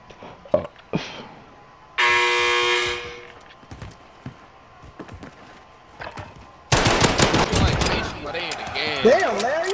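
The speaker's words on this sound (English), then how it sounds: "You shot the whole clip out of that fan, bro." Video game gunfire as a whole magazine is emptied, a sustained rapid burst of automatic shots, followed later by a longer loud volley with scattered single shots and game noises, with people talking over it.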